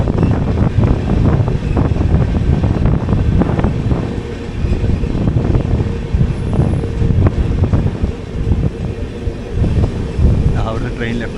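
The 22883 Puri–Yesvantpur Garib Rath Express rumbles steadily along the line with continuous wheel and wind noise, heard from aboard the train, and a voice talks briefly near the end.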